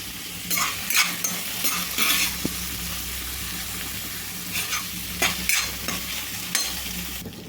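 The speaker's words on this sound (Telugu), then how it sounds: "లైట్ గోల్డెన్ బ్రౌన్ కలర్ వచ్చే విధంగా అయితే వేపుకోవాలి ఈ ఉల్లిపాయ" Onions frying in a pan for a dhaba-style egg gravy, stirred repeatedly, with steady close sizzling and sharp scraping strokes of the spoon recurring every second or so.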